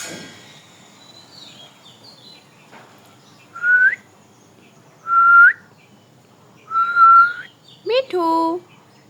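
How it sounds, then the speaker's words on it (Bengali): A pet parrot-type bird (mithu) whistles clearly three times in rising, drawn-out notes, then adds a quick run of chirpy warbles at the end, close and loud over a quiet room with faint background murmur. "আর আমার এই পাখিটা মিঠি"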